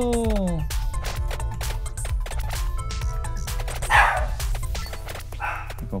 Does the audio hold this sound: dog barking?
yes